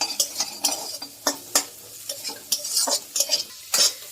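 Potatoes and ginger stirred in a pan while making cauliflower samosa filling, a spoon scraping and clinking in irregular strokes over a soft sizzle, close up with no voices.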